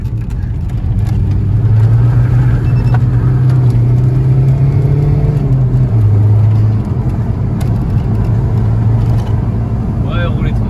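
A reprogrammed diesel Volkswagen Golf cruises steadily on the road, its engine drone and road rumble heard from inside the cabin, a continuous mid-low hum that shifts pitch slightly around six seconds.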